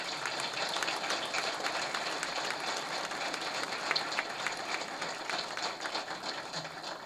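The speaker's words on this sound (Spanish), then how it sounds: "pido un aplauso" An audience at a business launch event for a futures and options market applauds in a dense, continuous wash of clapping that holds steady for several seconds.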